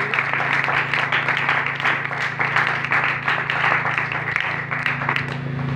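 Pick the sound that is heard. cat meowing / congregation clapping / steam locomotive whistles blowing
congregation clapping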